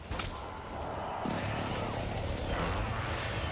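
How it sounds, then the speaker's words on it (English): Precision airstrike explosions in Call of Duty Warzone on Rebirth Island, a dense rolling barrage of booms and blasts that builds and sustains loudly across the whole stretch, with a heavier hit partway through. "Friendly precision airstrike inbound"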